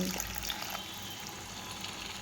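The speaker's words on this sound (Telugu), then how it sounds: "ఇప్పుడు దీంట్లో కొద్దిగా వాటర్ పోయాలి." Water poured into a pan of Telangana-style chicken curry, a steady broadband hiss and gush of liquid hitting hot food, fairly quiet and continuous for a couple of seconds with no talk.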